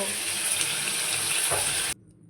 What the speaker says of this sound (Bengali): এই যে পোলাও চালটা দিয়ে দিলাম ফুটতেছে